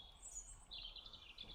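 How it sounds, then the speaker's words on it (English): Birds chirp outdoors in faint, high twittering calls, a few short bright phrases over a low background hum. "there was something about the birds chirping away"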